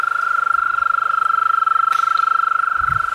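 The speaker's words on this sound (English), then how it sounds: "I think they're jumping around out there, I can hear them." A loud, continuous high-pitched trilling chorus of frogs outdoors at night, pulsing steadily throughout with faint low thumps underneath.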